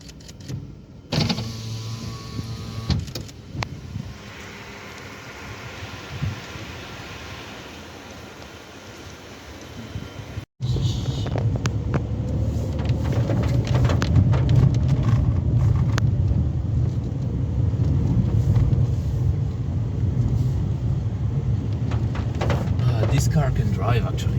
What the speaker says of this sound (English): it's not a proper car for this road